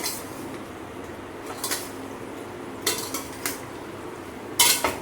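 Spoon clinking and scraping in a pan as steamed patra rolls get stirred through a hot oil tempering, a few sharp metallic knocks spaced apart over faint background hiss.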